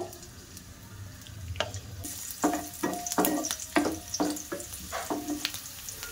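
Chopped garlic cloves frying in white cooking oil for a chicken snack, a steady sizzle joined by a run of sharp clinks and scrapes as the pan is stirred, close and moderately loud with no talking.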